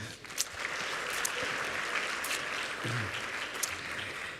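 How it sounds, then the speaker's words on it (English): Delegates at the opening ceremony of a mayors' summit in Jakarta clap for visiting mayors and governors, a steady, moderately loud hall applause with a few sharper individual claps standing out. "Let's give them a round of applause."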